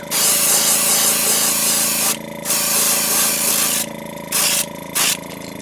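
Airbrush spraying pearlized silver paint down the back of a shad-style fishing lure, a loud close hiss in long bursts broken by short pauses and then two quick final spurts, with no voices.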